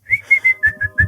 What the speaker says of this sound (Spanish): y todos silbando ahí.